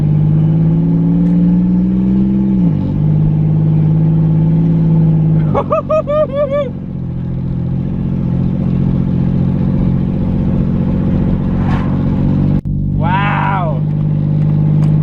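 A modified minivan running without an O2 sensor idles and revs roughly, its loud misfiring engine surging and dropping with rattly clatter, while a voice speaks over it in places.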